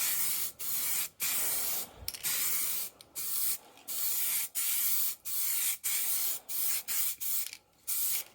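Aerosol primer sprayed onto a plastic spoiler undertray from a 1994 Jaguar XJS V12, short hissing bursts repeated in a steady on-off rhythm, close and alone.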